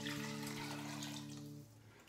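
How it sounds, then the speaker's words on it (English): Cold water poured in a steady stream into a pot of boiling chicken pho broth, a close, rushing splash with a droning hum beneath that fades out near the end. "you can just add in a cup or 2 cups of the cold water."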